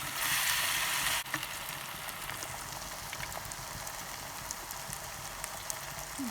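Zucchini fritters (mücver) sizzle steadily in hot oil in a pan, a soft continuous crackle with a brief louder burst at the start, no talking.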